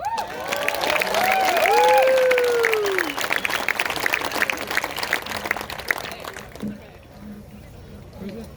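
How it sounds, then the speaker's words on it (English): Crowd at a political rally in Aylmer, Ontario applauding and cheering loudly, with whoops over steady clapping that swells for a few seconds and then tapers off, while a voice carries over the top. "So give it up for Mike."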